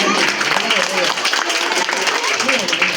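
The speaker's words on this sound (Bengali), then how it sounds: "একবার জোরে করতালি হয়ে যাও" An audience at a school competition event claps loudly, a dense, continuous patter of applause that lasts the whole moment, with a voice talking over it.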